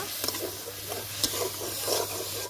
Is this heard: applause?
no